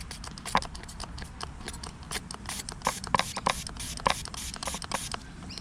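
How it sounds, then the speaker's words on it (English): Short bursts of cleaning solution spray hiss repeatedly at close range onto skateboard bearings, irregular and quick, mixed with light clicks and handling noises. "I get the cleaning solution, and pretty much all I do is just spray the bearing."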